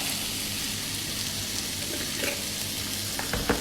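Carrots fry in a pan for a mango and carrot pickle, giving a steady, close sizzle with light stirring and a few scraping clicks toward the end.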